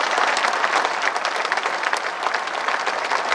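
Loud, dense applause from a large audience at a poetry gathering, honoring uniformed soldiers standing on duty, a continuous roar of clapping close and full for the whole stretch with no speech over it.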